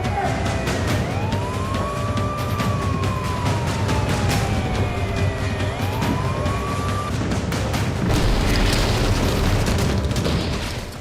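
A siren rises and falls over a constant loud roar of noise and rumble during Russian missile strikes on Odesa.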